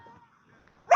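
A puppy gives a single short, loud bark at the very end, after a stretch of near silence with faint murmuring.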